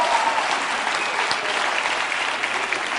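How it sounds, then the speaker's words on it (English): A church congregation applauds during a service, a dense steady wash of many hands clapping, loud and sustained throughout. "Give them a clap, will you?"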